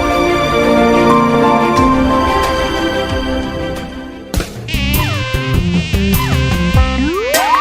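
A housefly buzzes close by in a fantasy children's TV series, a steady, loud, droning whine that shifts in pitch partway through and carries on alone without talk.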